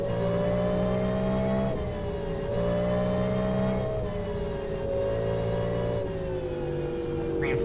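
A GT3 race car in a racing video game accelerates after a green-flag restart at a Le Mans circuit, with a steady, loud engine roar and rising revs running throughout and no talking.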